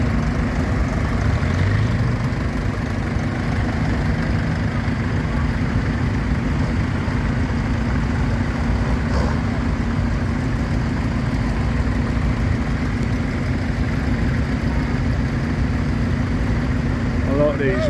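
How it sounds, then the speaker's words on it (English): A rare imported vintage tractor, a small machine similar to the Farmall A, idles steadily with a low, constant engine hum throughout, recorded outdoors at a show in Ashby Magna. "These are really unusual tractors,"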